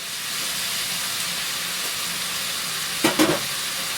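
Meat with paprika, chili powder and salt browns in a pan with a steady close sizzle and hiss, broken near the end by a couple of brief stirring clinks.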